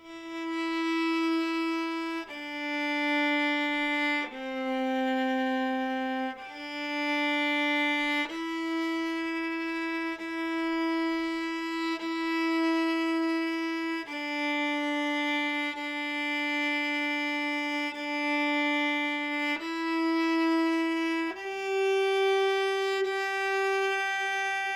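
A beginner viola plays Mary Had a Little Lamb note by note with full whole bows, each sustained tone of even length changing pitch at steady intervals, clear and close with no talking.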